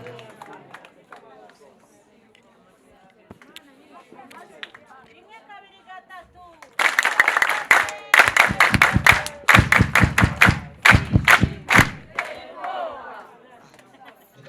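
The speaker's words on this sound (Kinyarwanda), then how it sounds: "Muyimera amashyi ya sipesiyare n'icyubahiro kiyikwiriye" A church congregation bursts into loud, sustained applause and cheering at a choir thanksgiving service, with rapid crowd clapping after a quieter stretch of speech and murmur.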